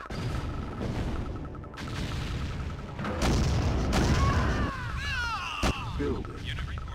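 Heavy weapons fire in a Command & Conquer strategy game, with loud booms and gunfire bursts rolling through a busy battle mix, along with a brief sharp crack and whistling, sweeping effects near the end.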